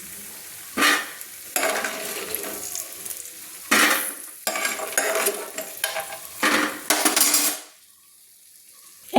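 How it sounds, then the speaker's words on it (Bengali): Bori lentil dumplings frying in oil in a pan, a steady close sizzle broken by bursts of stirring and scraping, with clinks of a utensil against the pan, before it falls quiet near the end. "একটু লাল লাল করে ভেজে নিচ্ছি"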